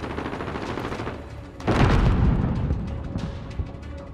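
Video game combat with heavy booming gunfire and a deep explosive blast midway, dense overlapping shots and rumble throughout, close and loud.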